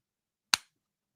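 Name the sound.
imitated applause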